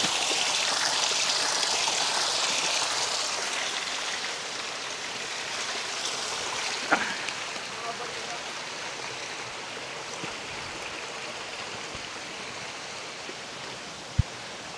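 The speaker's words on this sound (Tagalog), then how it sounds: "Ang lakas ng agos ng bukal dito." Strong spring water near a waterfall in Bailen, Cavite rushes steadily and continuously, a broad even roar close by with no talking.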